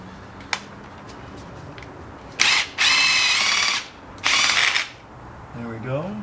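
Ratchet or small power driver spinning out 10mm bolts from the wiring harness tray on a 2003-2010 Saab 9-3 2.0T, in two loud sustained bursts after a sharp click, then a brief voice at the end.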